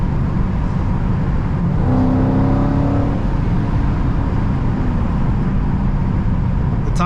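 A Dodge SRT 392 Scat Pack's V8 engine drones steadily on a wet road, with a brief rise in revs near the start, heard from inside the car with no talking.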